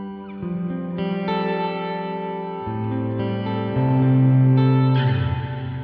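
An electric guitar played through the Space reverb effect on a Line 6 POD Express amp modeler rings out a series of sustained chords that shift every second or so, each washed in a lush, modulated, lingering tail, with no speech.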